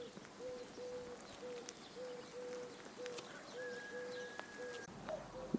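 A dove cooing outdoors on a rainy morning, a repeated soft low call in a steady rhythm, faint and distant, with a higher bird note joining near the end.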